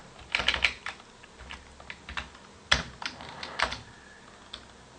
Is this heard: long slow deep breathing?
no